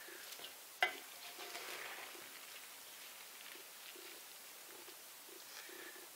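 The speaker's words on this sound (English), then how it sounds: "Just mixing up a little bit more here." Salted shredded cabbage being mixed by hand for sauerkraut, a faint, close, wet crunching and rustling texture with one brief sharp knock near the start, no voices.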